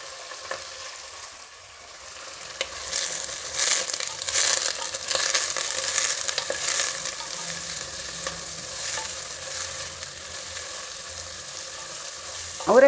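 Avarekalu (field beans) frying in oil for white pulao, a steady close sizzle with stirring scrapes that swells after a quiet start and holds for most of the stretch.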